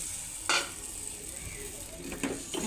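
Washed kochu mukhi taro lands in hot spiced oil, raising a soft hiss with a brief louder splash and a couple of light utensil clinks, all fairly quiet and close.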